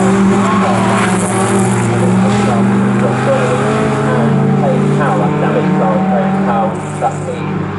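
MG Trophy race cars lap the Snetterton circuit with a sustained engine drone and shifting revs as they pass. A commentator talks over the engines throughout.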